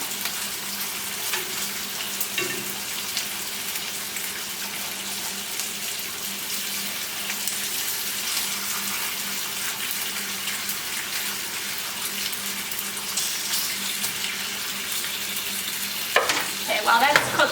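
Bacon fries in a porcelain cast iron skillet with a steady, dense sizzle that holds evenly throughout, close and moderately loud, ending with a few clatters.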